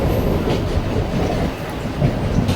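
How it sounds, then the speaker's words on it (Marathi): A moving passenger train heading toward Dadar station, heard from inside as a loud, steady rumble with rhythmic wheel clatter and faint squeaks throughout, no voices. "म्हणजे आम्ही ट्रेनमधून प्रवास आमचा सुरूच होता."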